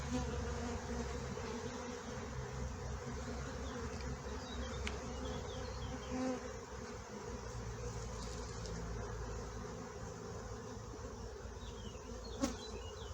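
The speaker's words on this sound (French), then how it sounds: "c'est pas mes abeilles les plus douces" Dense, steady buzzing of many honey bees up close at a beehive, a continuous droning hum with occasional louder passes near by.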